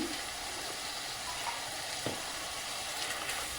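Bitter gourd (karela) frying in a pan with spices, giving a steady, even sizzling hiss throughout with a faint tap or two, no voices.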